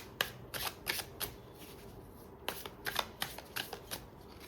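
Tarot cards being shuffled, a close run of quick papery riffling flicks in two bursts separated by a brief pause, with no voices.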